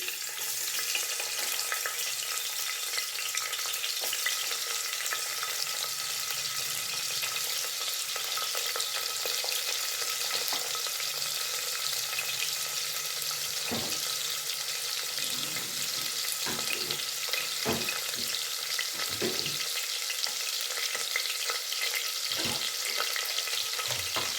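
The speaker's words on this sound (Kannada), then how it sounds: "ಈಗ ಒಗ್ಗರಣೆಗೆ ಒಂದು ಈರುಳ್ಳಿ ಹಾಕ್ತಿದ್ದೀನಿ," Cut onion sizzles loudly and continuously in hot oil for tempering, a dense crackling hiss with scattered stirring knocks.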